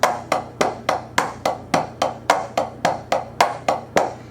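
Hi-hat groove on a drum kit with every eighth note played as a full stroke, a fast, even run of about fifteen crisp, loud hits in a driving rhythm, close up with no talking.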